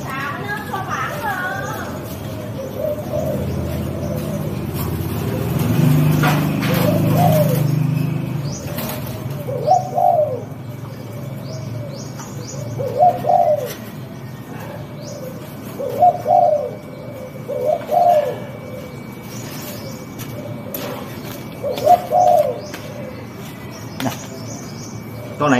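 Pigeons or doves give repeated soft cooing calls in short bursts spaced a few seconds apart, close by, with wing flutters and a murmur of voices early on.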